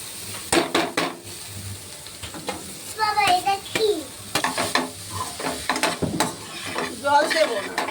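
Grated taro being stirred and fried with salted onions in a pan, an ongoing sizzle broken by repeated spatula scrapes and clanks against the pan, with a voice chattering in the background.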